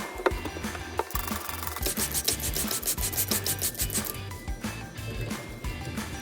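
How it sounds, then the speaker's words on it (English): Threads on a Delta shower cartridge nut are being cleaned, making close, continuous scratchy rubbing and scraping strokes in a quick irregular rhythm. "Might as well clean up the threads on this nut so it goes on real smooth."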